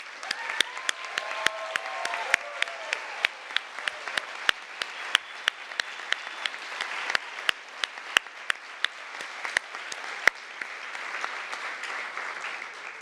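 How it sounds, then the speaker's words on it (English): Applause for nursing graduates at a pinning ceremony, a continuous patter of many hands with a few sharp, louder claps popping out, moderately distant and sustained throughout. "Let's give a big round of applause for the graduates."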